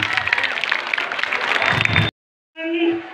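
Applause breaks out from an audience at a school language-month event in a junior high school, a dense wash of clapping that stops abruptly, followed by a brief pause and a short tonal sound.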